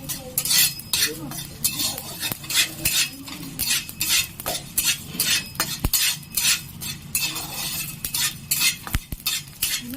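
Whole coriander and other whole spices dry-roasted in a metal wok: dry scraping and stirring, repeated strokes with a faint sizzle and occasional clinks of a utensil against the rim.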